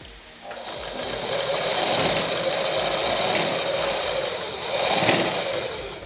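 A sewing machine runs steadily, laying a double row of stitching along the top of a lined blouse, its close, even motor whir continuing without pause and swelling slightly near the end.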